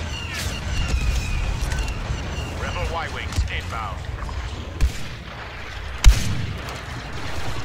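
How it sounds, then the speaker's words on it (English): Sniper shots and scattered blasts during a Star Wars Battlefront beta battle, a few sharp cracks standing out over a low rumbling background, while a player talks over the action. "these sniper shots are getting real today"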